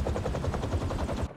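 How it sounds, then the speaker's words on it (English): Helicopter blades in the Spider-Man 2 video game make a loud, steady, fast pulsing thump that runs throughout before cutting off abruptly near the end. "Helicopter's blades."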